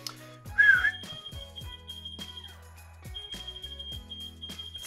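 A person whistles a short bright melodic phrase, moderately close, with sharp clicks and knocks and a steady high tone in the background.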